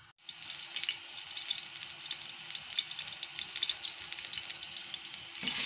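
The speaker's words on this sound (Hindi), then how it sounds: "गर्म हो चुका है, रान को आराम से उठाएंगे और पैन के अंदर रख देंगे" A leg of mutton raan fries in hot cooking oil in a pan, giving a continuous loud crackling sizzle with fine spitting pops, starting abruptly and holding steady throughout without speech.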